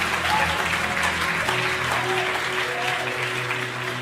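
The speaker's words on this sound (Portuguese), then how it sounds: "pode aplaudir mais forte" A congregation applauding at a church sermon, a dense sustained roar of many hands clapping together that holds steady throughout, with a few faint voices mixed into the crowd noise.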